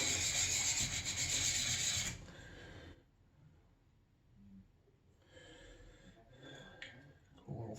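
Plane iron rubbed back and forth on a DMT DuoSharp WM8 diamond plate, giving a loud, close, coarse grinding rasp for about two seconds, then quiet, then lighter intermittent scraping strokes.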